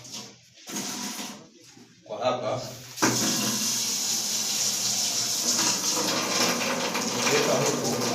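Tap fed by an electric water heater at a mosque washing area, first spurting in short bursts, then running in a steady loud stream, with a voice talking over it.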